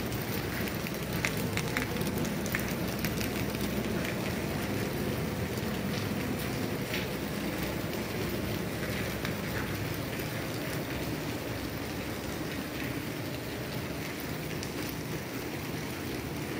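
Steady rain falls outdoors along a migrant caravan route near a border, a dense, even hiss of drops on surfaces continuing unbroken and fairly close throughout.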